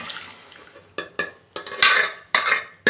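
Cooked lentils going into a pan of fried moringa leaves and being mixed, a run of sharp metallic scrapes and clanks from a spoon on the pan, close and uneven.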